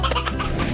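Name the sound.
hen clucking in the video game Slime Rancher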